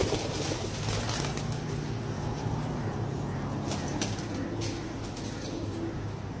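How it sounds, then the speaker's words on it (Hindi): Breeder pigeons at a home loft coo softly and intermittently, with occasional wing flaps and fluttering, fairly faint against a low background hum. "बहुत ही प्यारे कबूतर हैं जनाब"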